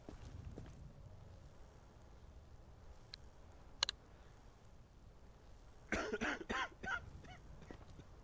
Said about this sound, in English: And that cough is just not good either.